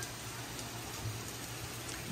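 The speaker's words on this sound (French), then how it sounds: "la journée se termine sous la pluie." Steady rain falling outdoors at the close of the day, a soft continuous hiss of drops on surfaces, even and fairly faint with no talking.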